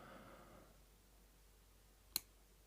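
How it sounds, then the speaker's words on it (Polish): A single faint, sharp click from a pin inside a CISA 285/75 padlock during lockpicking, heard alone near the end after quiet rustling. "Delikatne kliknięcie jest."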